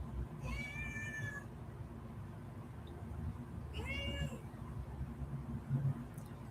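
A cat lets out two drawn-out, wavering meows a few seconds apart, moderately close, over a low steady background hum.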